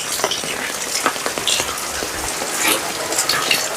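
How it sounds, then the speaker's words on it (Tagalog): Rain patters steadily on surfaces around a small open-air wet market stall, a dense hiss with scattered drop ticks, close and even throughout with no talking. "Medyo humina na yung ulan. Kanina napakalakas."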